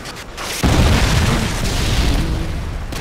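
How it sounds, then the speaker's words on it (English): Flashbang grenade detonating in a multiplayer shooter game, a single loud blast after a brief lead-in, trailing into a sustained ringing, rumbling wash. "Tossing a flashbang!"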